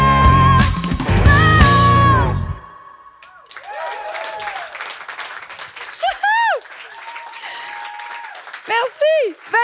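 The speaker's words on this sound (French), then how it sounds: "On les applaudit!" A concert audience at a show launch at Place des arts applauds the band as the music ends, with a dense patter of clapping, scattered cheers and whoops.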